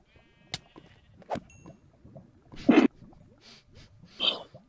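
A sheep in the video game Minecraft bleats in short, loud bursts, close by, between faint clicks and soft game noises.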